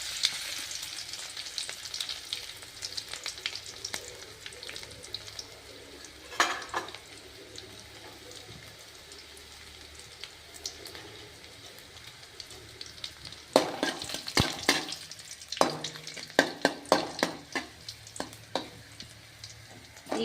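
Crushed garlic frying in a pan of hot oil for a North Karnataka methi kadubu recipe, with a steady sizzle broken by bursts of scraping stirring and clinks, close and moderately loud without talk.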